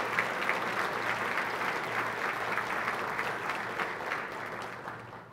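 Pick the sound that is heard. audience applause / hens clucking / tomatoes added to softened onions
audience applause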